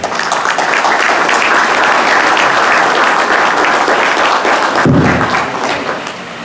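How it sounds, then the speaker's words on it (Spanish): Loud, sustained applause from an audience welcoming the new president of Club Ancash at an evening gathering, steady dense clapping that runs for several seconds before cutting off with a thud and fading. "Le brindamos un fuerte aplauso."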